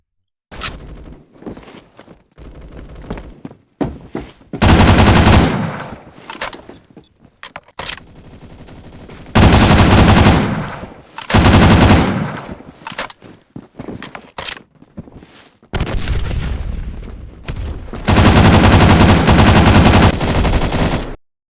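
AN-94 rifle fire in a first-person shooter, loud rapid automatic bursts repeating several times in close succession, separated by shorter clicks and quieter gaps of handling and movement.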